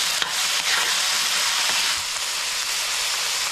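Food frying in a pan while being stirred, a steady close sizzle with a few brief scrapes of the utensil and no talking.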